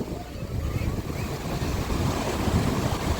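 Sea waves surge and wash at Digha while fishing trawlers head back to the river mouth, a continuous rushing roar mixed with wind buffeting the microphone, with no voices.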